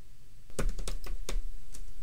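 Fast typing on a computer keyboard, a quick burst of sharp, close keystrokes in an uneven rhythm after a brief quiet start, with no talking.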